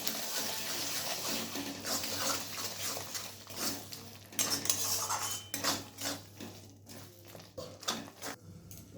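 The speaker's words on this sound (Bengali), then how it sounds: "আবার আমি ভালোভাবে কষিয়ে নিচ্ছি।" Mutton curry spices with a spoonful of turmeric stirred and fried in a pot over low heat, with repeated metallic spoon scrapes and clinks against the pot over a steady background hum, close and fairly loud.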